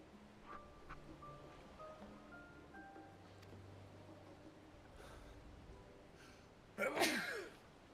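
A single sharp sneeze bursts out near the end, loud and close, following several seconds of quiet background with faint tonal game music.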